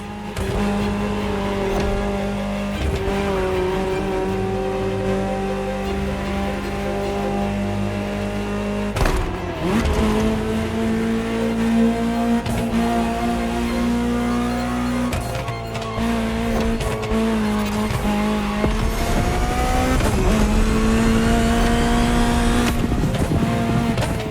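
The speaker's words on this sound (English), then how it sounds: "Just listen to the car you're driving." A powerful Ferrari supercar engine in the video game The Crew Motorfest revs and holds a droning tone, shifting pitch through gear changes, with occasional tire squeal, loud and close throughout.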